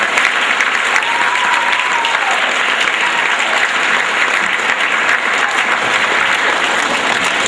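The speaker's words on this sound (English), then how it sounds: "And let's give a big applause." Loud, dense applause from an audience at a school assembly honoring state champion soccer players, a steady unbroken roar of clapping that carries on evenly for the whole stretch.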